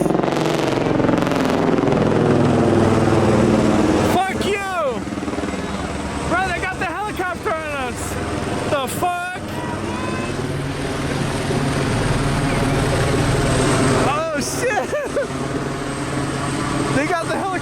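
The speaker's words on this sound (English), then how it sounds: "They got the helicopter on us." A police helicopter hovers overhead with a loud, steady rotor thump and engine roar throughout, while people talk and shout beneath it in an outdoor street setting.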